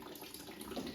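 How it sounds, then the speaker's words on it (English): Water drains steadily out of an emptied boiler, a faint continuous rushing and trickling gush with no talk. "So you're emptying water from the boiler, so it's not so heavy."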